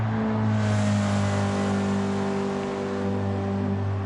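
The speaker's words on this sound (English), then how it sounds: "why do these Volvo estates sound like F1 cars?" A Volvo estate race car in a one-make series roars at sustained high revs, a loud steady engine note with strong harmonics, close and unbroken throughout.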